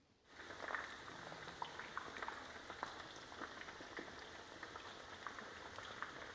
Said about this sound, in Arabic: نديرو شوية زيت في المقلاة ونقليو البرانية تاعنا